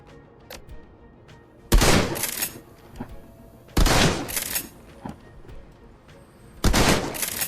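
Laser weapon fire in the video game Shadowrun: Hong Kong comes as three loud, crackling bursts spaced a couple of seconds apart, with quieter stretches of background sound between them.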